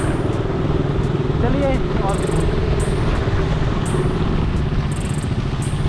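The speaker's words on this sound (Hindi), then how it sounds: "अब देख रहे हो सामने में 3 बाइक चल रही हैं" Several motorbikes on a group ride from Sarangarh to Amakoni Dam, a steady loud engine drone and road rumble throughout, with someone talking over it.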